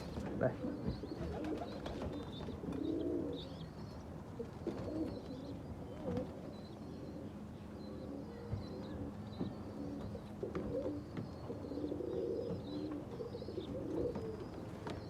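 Red Cheena pet pigeons kept in a loft by a Punjabi hobbyist coo in low, repeated throaty calls through a steady background murmur, with faint chirps higher up.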